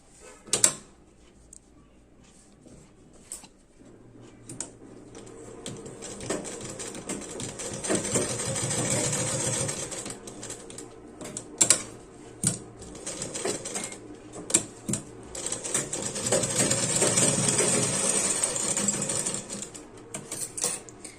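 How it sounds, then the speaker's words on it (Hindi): A sewing machine stitches a strip onto winter sock fabric. Close mechanical whirring comes in runs that swell and stop, broken by sharp clicks and handling knocks, with no voices. "ये जो पट्टी है यहाँ पे सीधा रख के इसमें सिलाई डाल लेंगे।"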